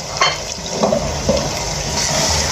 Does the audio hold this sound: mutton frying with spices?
yes